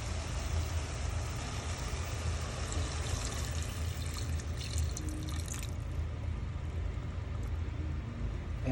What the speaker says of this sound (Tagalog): tapos lalagyan po natin ng konting tubig